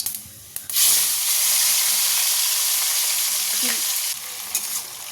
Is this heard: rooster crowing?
no